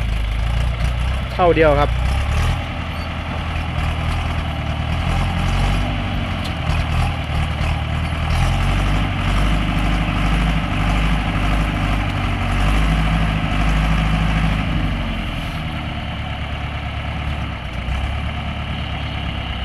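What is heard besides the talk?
engine of a log grapple truck idling steadily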